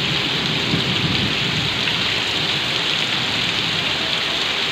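A steady downpour of heavy rain in Goa hisses and roars without pause, loud and enveloping, with a deep rumbling undertone.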